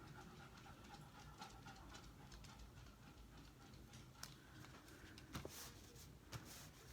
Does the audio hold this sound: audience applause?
no